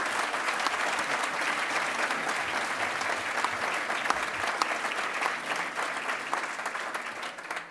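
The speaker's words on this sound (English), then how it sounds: "Please give them a round of applause for their support" Dinner guests at a Freedom House annual dinner give sustained applause for sponsors, a full, even roar of many hands clapping that holds steady for several seconds before starting to fade.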